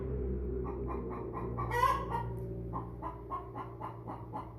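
An old American Bresse hen clucks in soft repeated pulses close by, with one louder squawk partway through, over a low steady background hum.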